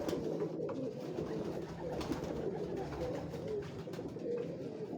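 Purebred pigeons crowd a rooftop in Lahore, their low cooing forming a dense, continuous rolling murmur close at hand, with no talk over it.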